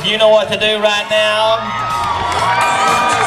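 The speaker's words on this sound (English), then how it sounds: "They're cheering her on." Crowd cheering and whooping for a girl riding a sheep at a Kansas mutton busting rodeo, a steady mass of voices under a clear announcer talking over a loudspeaker.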